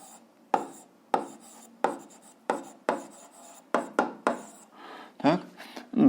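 Handwriting with a pen during an eighth-grade algebra lesson: steady, close scratchy strokes come in short bursts roughly every half second, with no other sounds alongside them.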